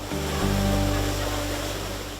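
A waterfall in rural Turvo, Paraná, heard as a dense, steady roar of rushing water filling the short stretch, with a low rumbling hum running underneath.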